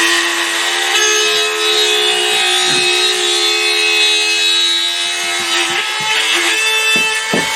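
A router cuts a ceiling box opening in a panel, a loud, steady high-pitched whine with a grinding cutting rasp underneath and slight variations in load, close by and uninterrupted.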